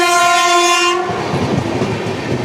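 A Southern Railway train passes close by, its horn blaring a sustained chord for about a second before cutting off into the rushing clatter of wagons on the rails.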